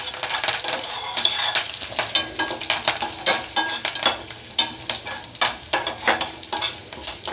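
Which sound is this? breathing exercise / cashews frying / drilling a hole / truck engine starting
cashews frying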